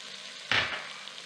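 Spices tipped into a pot of Lebanese red lentil soup with vegetables: a single sudden burst of sizzling hiss that flares loudly, then fades back to a faint steady simmer.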